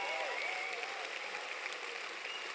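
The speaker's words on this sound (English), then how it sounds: "And give yourself the bigger round of applause." An audience at a leadership talk bursts into sustained applause, a steady dense wash of clapping with faint crowd noise, heard alone at moderate distance.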